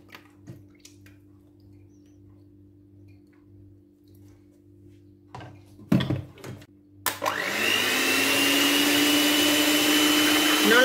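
An electric hand mixer kicks in and runs steadily at close range, loud and continuous, semi-whipping freezer-chilled cold cream with condensed milk for a frozen cream cake, preceded by a few clicks and knocks of setup.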